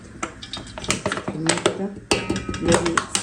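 A cooking pot set down in a home kitchen while stuffed grape leaves and courgettes are prepared, a few metallic clanks and knocks close by, with voices talking around it.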